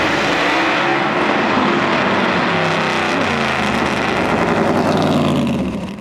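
A very loud drag car launches hard at the starting line of the 2020 World Power Wheelstanding Championships, a sustained full-throttle roar that fills the whole stretch without a break and only eases slightly at the very end.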